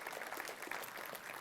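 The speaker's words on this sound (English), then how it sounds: "let's give a big round of applause to our guardian angels" An audience gives a round of applause to guardian angels, a steady wash of many hands clapping at moderate distance, fairly faint and without talk.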